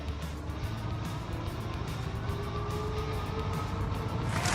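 A Kingbull Jumper Go 20-inch full-suspension electric bike pulls away on throttle alone, its steady motor whine and road rumble holding level for several seconds and swelling slightly near the end.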